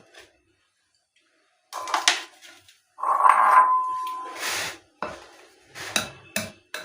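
Green chillies and small onions are ground by hand in short, irregular bursts of gritty rubbing and scraping, separated by brief pauses, close and moderately loud.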